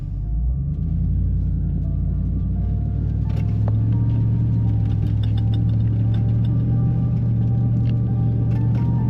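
A 4x4 pulls away in first gear with the rear locker engaged, giving a loud, close, continuous low engine rumble with faint ticking and rattles throughout.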